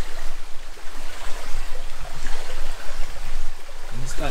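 River water rushes and trickles around someone wading along a remote riverbed near Valencia, Spain, a steady close wash of water with splashy bursts from steps and a brief knock near the end.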